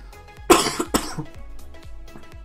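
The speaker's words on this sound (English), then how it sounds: "Sorry guys, I'm coughing all over." A person coughs in a quick burst of several harsh coughs, followed by a throat-clearing sound. The coughing is close and fairly loud over low background hum, with no talk.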